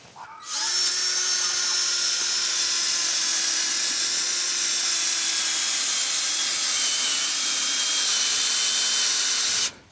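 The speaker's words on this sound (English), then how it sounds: "take your electric drill" An electric drill spins up and runs continuously at a steady high-pitched whine for several seconds before cutting off, close and alone with no talking.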